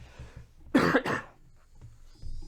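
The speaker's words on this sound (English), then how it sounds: "I got a cough." One close, harsh cough in two quick bursts, then quiet breathing and faint room noise.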